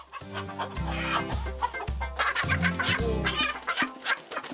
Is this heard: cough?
no